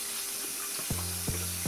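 Water poured and running onto hair during a 360 waves wash, a steady close splashing hiss with a few soft knocks near the end.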